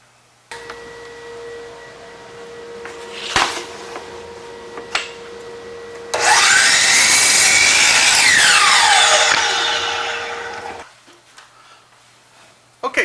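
A power saw cuts wooden door casing pieces, one loud sustained rasping cut of about five seconds after a few knocks and handling noises, then the blade winds down into quiet.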